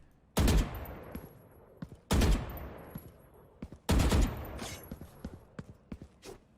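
Gunfire from Valorant shooting practice in three loud, sharp bursts of rapid automatic fire, each roughly a second long and separated by pauses, followed by fainter clicks and small impacts.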